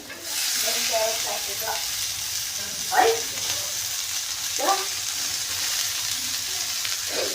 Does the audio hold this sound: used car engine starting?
no